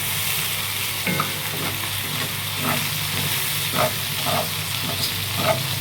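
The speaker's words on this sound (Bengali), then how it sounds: "এখানে আম্মু পেঁয়াজ মরিচ ভালো করে সটে করে নিচ্ছে" Onions and chilies sauté in a pan with a steady broadband sizzle, while a few soft stirring scrapes and clinks rise over it at irregular moments.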